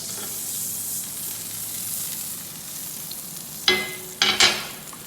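Butter and a little oil sizzling in a pan before pancakes go in, a steady soft hiss building into a few louder bursts of spitting and scraping near the end, close by with no talking.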